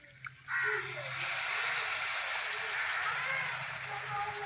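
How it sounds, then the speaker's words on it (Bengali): Water poured from a freshly rinsed bowl into a cooking pan of shrimp with taro, a steady splashing pour that starts after a brief pause and runs continuously to the end. "বাটিটা ধুয়ে জল দিয়ে দেবো একটু"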